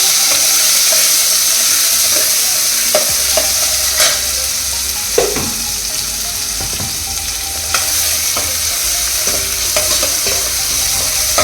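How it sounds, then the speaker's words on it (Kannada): Tomato and onion fry in a hot tempering of oil, a loud, steady sizzle broken by occasional clinks and scrapes of a stirring spoon against the pan. "ಚೆನ್ನಾಗಿ ಫ್ರೈ ಆಗಬೇಕು."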